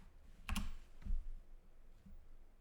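A few soft keystrokes on a computer keyboard, two faint clustered taps followed by a lighter one, in a quiet room.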